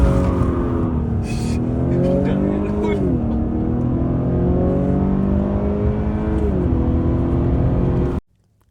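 Car engine with a modified air intake, revving up and down in steady rising and falling pulls, loud and close throughout before cutting off abruptly near the end.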